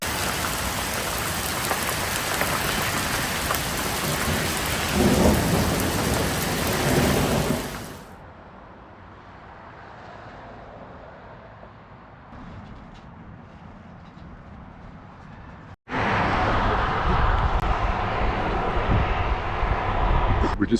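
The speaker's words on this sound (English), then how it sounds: "it's like major thunderstorm had moved in. Hail, thunder" A heavy thunderstorm with hail and rain near Lake Tahoe, a dense loud hiss of pouring rain and hail that drops away into quieter rumbling, then returns abruptly at full force; a voice speaks during it.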